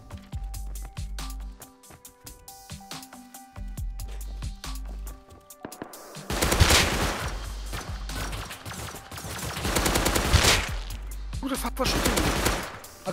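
Video game gunfire in an online shooter match, with bursts of rapid automatic fire and loud single shots, dense and close in the second half, with quieter clicking and game sounds before.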